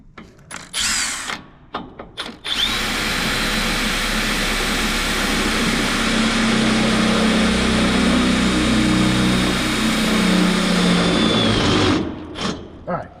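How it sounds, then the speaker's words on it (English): A power drill bores a bit through the firewall of a Squarebody truck engine bay, whining steadily and loudly for about ten seconds after a few short starts and clicks, then stopping. "what's nice about the drill bit action here is that little indention"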